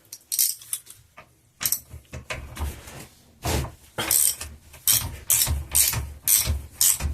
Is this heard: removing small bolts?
yes